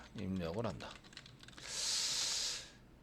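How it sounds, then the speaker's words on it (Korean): Keys tapped on a computer keyboard during a Java programming lesson, a short burst of fast, close clicking with a hissy edge that comes after a man's speech. "키보드로 입력을 해요."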